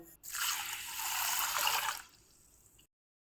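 A brief rush of water poured over rice grains as the rice is rinsed, a bright splashing swish lasting a couple of seconds, then fading to a faint trickle.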